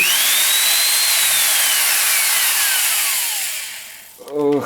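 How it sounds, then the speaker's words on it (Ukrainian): An old Bosch electric drill motor whines steadily, its pitch rising then slowly sliding down as it spins down, followed by a brief burst of voice at the end. "хто любить інструмент, той знає, що це за звук, як вона е, працює, ця дриль"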